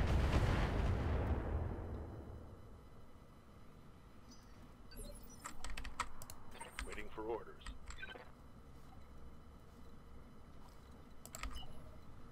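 Missile volleys launching and detonating in the mech combat game Roguetech, with a loud explosive burst up front that decays over two seconds, then scattered sharp impacts and crackles over low rumble, under talk.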